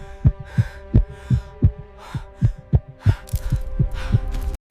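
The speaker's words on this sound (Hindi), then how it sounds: "हमजा के दिल की धड़कन तेजी से बढ़ने लगी।" A racing heartbeat pounds in a steady series of about a dozen deep, close thumps that quicken over time, layered over a low hum with faint airy swells.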